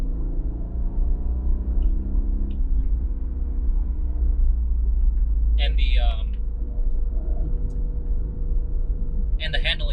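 An Aston Martin Vantage in track mode holds its engine at high RPM, a steady deep rumble with a sustained droning tone filling the cabin, and brief voice fragments cut in over the top.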